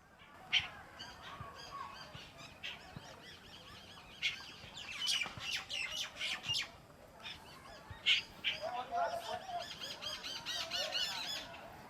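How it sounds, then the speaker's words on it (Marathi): Many birds call and chatter in a quiet forest near Baronda Devi Mandir in Virar, some honking squawks standing out among softer, scattered chirps at varying distances. "त्यांचा आवाज ऐकत आम्ही इथे मस्तपैकी शांतता अनुभवतोय आणि पक्ष्यांचा आवाज"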